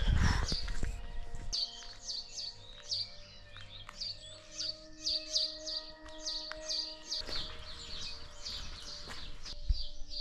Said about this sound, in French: Il n'y a pas un bruit, juste les oiseaux.